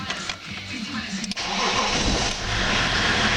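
A BMW 525 engine being started from cold, with a brief cranking burst followed by the motor catching into a loud, rough, steady running roar close by.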